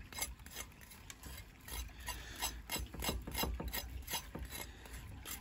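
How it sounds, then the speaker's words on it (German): Salt crust scraped off a pork belly, a rapid series of rough, ratchet-like scratching strokes, quiet and close with an uneven rhythm. "Dann machen wir das mal ab. Kratzen wir so ein bisschen."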